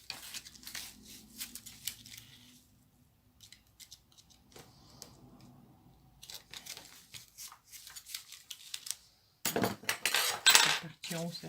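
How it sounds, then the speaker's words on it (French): Scissors snipping through a diamond painting canvas being trimmed for framing, a series of close, crisp cuts and rustles in uneven bursts, ending in a louder flurry of handling noise. "Ça, je vais la couper au ciseau."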